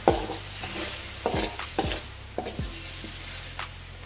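Fish roe stir-fry with fragrant vegetables being stirred in a pan, with several loud scraping strokes of a utensil over a steady sizzle, the strokes spaced irregularly and fading slightly toward the end.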